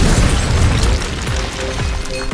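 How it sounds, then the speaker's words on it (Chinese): A film bomb hidden in a toy bear goes off inside a trash bin on a city street, a loud, deep boom and rumble that opens the moment and then rolls on with debris and lingering low noise. "小帅被炸懵了，可当他起身看向后面爆炸的源头，竟是垃圾桶"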